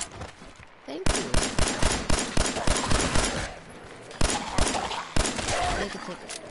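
Rapid bursts of gunfire aimed at ghouls in Fallout 4, loud and close, coming in two or three strings of quick repeated shots with brief gaps between them.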